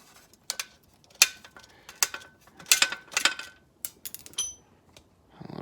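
An Allen key works out the dust shield bolts on a 2018 Jeep JL Rubicon, making scattered metallic ratcheting clicks and clinks in irregular bursts, close and alone.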